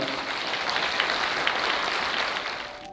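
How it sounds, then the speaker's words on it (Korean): Guests at a wedding ceremony in a Korean hall applaud the bride and groom, a steady dense wash of clapping held loud and even for the whole stretch, fading slightly at the end. "사람에게 축복의 박수 보내시기 바랍니다"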